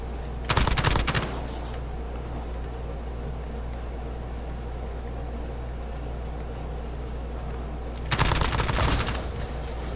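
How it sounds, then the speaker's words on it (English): Two bursts of rapid gunfire in the video game Warzone, one near the start and one near the end, with a steady low hum between them. "I hear more gunfire over here."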